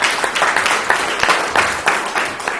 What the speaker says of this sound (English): give me a round of applause. Applause for you again